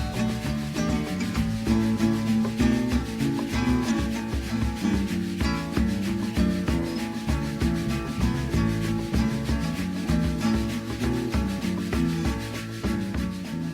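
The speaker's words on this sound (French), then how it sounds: "C'est une takamba, c'est une espèce de gamerie Maroc, Afrique de l'Ouest là-bas, que Loy Alish lui a fait cadeau." A takamba, the West African plucked lute, plays a busy rhythmic pattern of dense repeated plucked notes over a full musical backing, steady and fairly loud across the whole passage.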